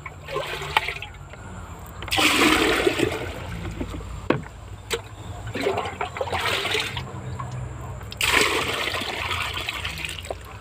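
Water splashes and gushes into a bucket in repeated bursts, pausing between each pour, with hollow sloshing sounds close by.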